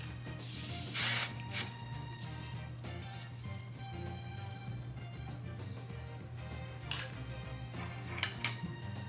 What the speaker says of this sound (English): So I added a little bit of hairspray.